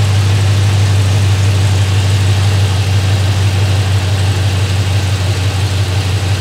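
A 1986 crew cab dually truck engine idles with no tailpipes fitted, a steady, loud low rumble with smooth, even pulses throughout and no talking.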